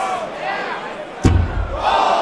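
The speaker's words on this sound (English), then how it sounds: "And they were cheering and booing at the same time." Large darts championship crowd roaring, a mix of cheers and boos with a sharp thump partway through and a rising swell of voices at the end, heard under a commentator talking.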